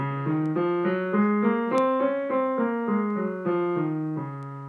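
A musical scale played note by note at a steady pace, stepping up and then back down, clear and alone.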